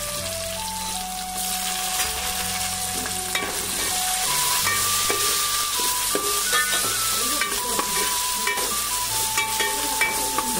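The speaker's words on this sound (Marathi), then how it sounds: "तर कांदा तांबूस झालेला आहे चांगला, आणि आता त्याच्यात एक टोमॅटो टाकूया" Tomato dropped onto browned onions frying in a pan for a Malvani clam curry, a steady close sizzle with stirring scrapes, over faint background music tones, no talking.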